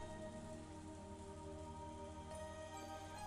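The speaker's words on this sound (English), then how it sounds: "As we listened to the sound of the rain" Steady rain falls in the video game Umineko: When They Cry, a soft, even hiss of drops on a surface that continues alone throughout.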